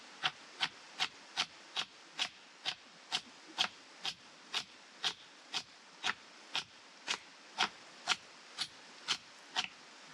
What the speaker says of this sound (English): Now take it and use the weight of the knife to chop.